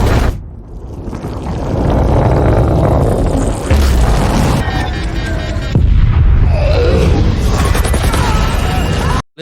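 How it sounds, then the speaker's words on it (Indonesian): A huge explosion from the film The Gorge roars and rumbles continuously, a dense, loud blast of noise with crackling debris that fills the whole stretch before cutting off abruptly. "Ledakan besar pun terjadi."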